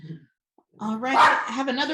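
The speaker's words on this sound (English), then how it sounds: "pardon my dogs in the background there" Several dogs bark and yip in the background of a home setting, a short burst of yelps followed by a sustained run of barking, while someone speaks over them.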